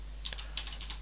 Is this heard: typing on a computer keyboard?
yes